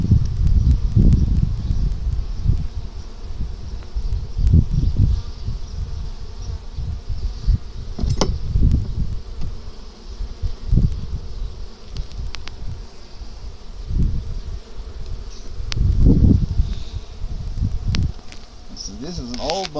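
Honeybees buzz close by during a hive inspection, a constant high drone with low, fluttering bursts as bees fly near. Occasional handling noises from the hive frames break in, and a voice speaks briefly.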